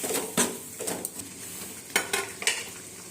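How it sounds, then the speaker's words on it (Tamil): A spoon scrapes and clinks against a pan in a few quick stirring strokes over a soft sizzle of simmering raw papaya gravy with a little added water. "இப்போ அதில் கொஞ்சமாக தண்ணியை விட்டு நல்லா கிளறி விட்டுக்கலாம்"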